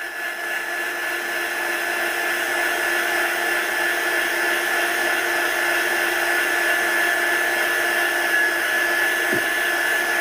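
A heat tool drying embossing powder and dye sprays on a crafting project blows with a steady, loud whirring hiss and a constant high whine, running unbroken throughout at close range.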